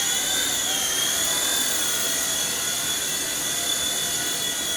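An H911 iRocket RC helicopter flies indoors in the middle of a room, its rotor and motor giving a steady, high, buzzing whir that stays loud and constant.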